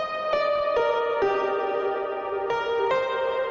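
A sustained synth melody drenched in heavy reverb, its notes stepping between pitches and washing into a long echoing tail.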